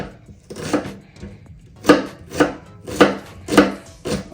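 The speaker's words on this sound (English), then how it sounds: "I'm just gonna cut my onion" A knife chops through an onion on a cutting board while Jamaican curry goat is being prepared, giving a run of crisp, evenly spaced strikes that grow louder after a quiet start, with no talking.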